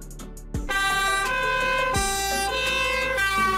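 An ambulance siren wails loudly and steadily in rising and falling tones, up close, over the hum of the road vehicle.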